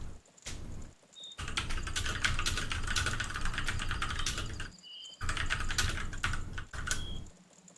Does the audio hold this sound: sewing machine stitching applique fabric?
no